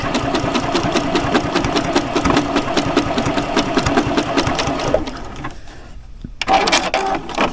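A new sewing machine stitches the edges of fabric appliqué, a fast, steady mechanical whir with rapid needle clatter, pausing briefly near the end before starting again.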